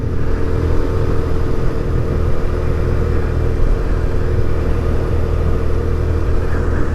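A 2024 Kawasaki Z125 motorcycle engine on the road during break-in riding, a loud continuous drone with rumble and wind noise held at a steady pace, close up.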